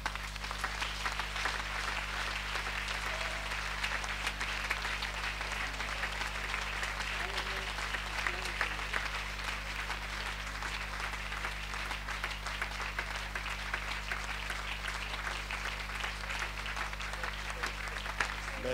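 A church congregation at a Sunday service applauds in a steady, dense wash of clapping that holds for the whole stretch without fading, loud and even, with a faint voice underneath.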